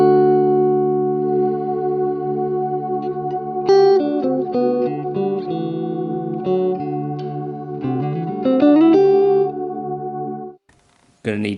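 Electric guitar notes played through a Hotone Ampero Stomp delay effect, sustained tones with shifting pitches and a smeared, echoing tail, ending in a brief dropout.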